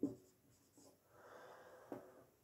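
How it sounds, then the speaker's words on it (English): Handwriting with a pen or pencil on paper, quiet scratchy strokes with a couple of light taps, faint and close. "I gotta write that down."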